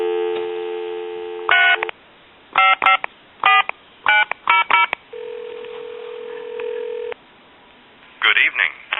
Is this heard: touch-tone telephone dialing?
yes